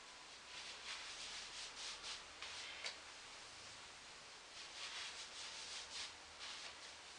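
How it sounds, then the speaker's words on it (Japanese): Hands rubbing up the back of the thighs toward the sacrum during a lymph massage, close, soft rhythmic swishing strokes of skin and fabric, repeated steadily without talk. "ももの裏側に手を当てて掴むようにしてお尻の仙骨の方までさすり上げていきます。"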